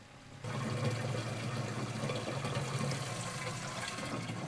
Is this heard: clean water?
yes